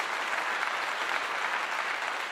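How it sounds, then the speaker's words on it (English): Steady, dense applause washes through evenly from start to finish, like a large crowd clapping continuously at a constant level, with no voices on top. "Clap to you."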